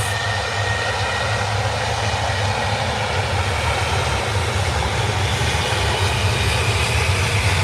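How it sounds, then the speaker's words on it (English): Ryanair airliner on a flight to Naples at Manchester Airport, a loud, steady jet engine roar that fills the whole clip without pause, with no voices. "Ryanair flight to Napoli, Naples."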